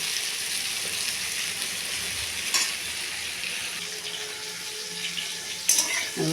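Bitter gourd fries in a pan with a steady, moderately quiet sizzle close by, broken by a couple of brief clinks or scrapes, with no voices.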